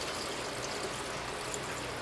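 Water pours and trickles steadily into a container holding silver recovered from computer keyboard mylars, a soft continuous splashing hiss at low level with no voices.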